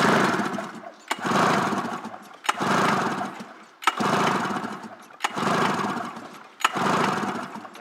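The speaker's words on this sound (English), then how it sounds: "1998 Indy 500 carbureted liquid cooled, engine compression test," A carbureted liquid-cooled 1998 Polaris Indy 500 snowmobile engine cranks over during a compression test, six rhythmic bursts of whirring turnover separated by short pauses, loud and close with no voices.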